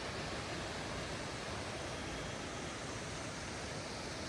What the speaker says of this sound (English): That waterfall over there.